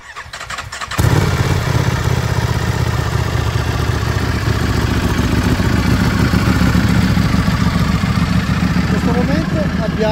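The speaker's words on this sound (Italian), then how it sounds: "Accendiamo la moto e vediamo come si comporta." A motorcycle fitted with an X-DB quick-detach exhaust cranks and fires up, then settles into a loud, steady, rumbling idle close by.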